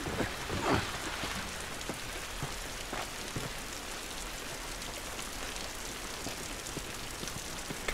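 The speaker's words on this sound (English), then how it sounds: "This rain ain't gonna do us any good." Steady rain patters outdoors in The Last of Us, a continuous close hiss of drops striking surfaces, with a few sharper splashes and no voices over it.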